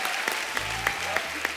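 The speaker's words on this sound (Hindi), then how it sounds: "जोरदार तालियां हो जाए" Studio audience applause on a comedy talk show welcoming women cricketers, a steady wash of clapping with some rhythmic claps standing out, alone and fairly close.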